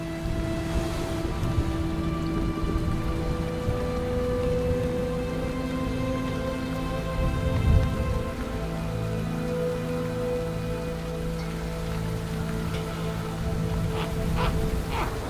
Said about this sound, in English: freezing rain like this can be a killer